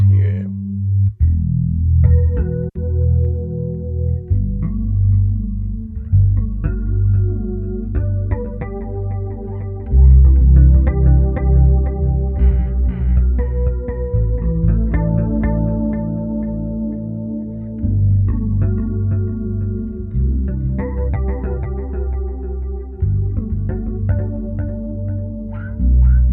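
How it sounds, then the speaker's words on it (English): A bass guitar plays through a delay effect on a Darkglass Anagram multi-effects unit, with low notes repeating in echoing trails. The playing is steady and close, with no talk. "What if we had a delay?"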